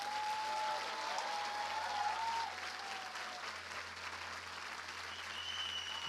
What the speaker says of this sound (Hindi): आइए प्रभु के लिए अच्छी ताली बजाएं